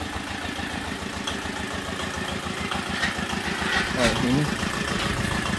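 A well-drilling machine engine runs steadily behind a house in a dry-season village, with a continuous mid-low throbbing drone heard up close. A person speaks briefly over it.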